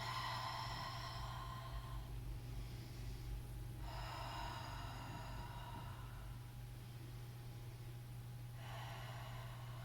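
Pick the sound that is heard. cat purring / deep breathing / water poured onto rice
deep breathing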